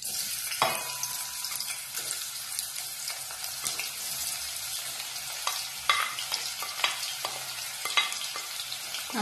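Oil sizzles and crackles steadily in a hot pan, a dense frying hiss with occasional sharper pops and light stirring clatter, close and without talk.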